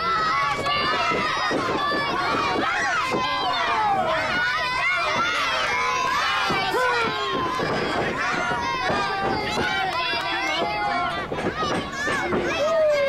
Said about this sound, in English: this crowd here is firmly on the side of the Jesus Freak Logan Stevens